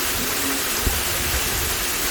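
Seonyu Falls on Jirisan pours steadily, a loud, close, unbroken rush of falling water with no other sounds.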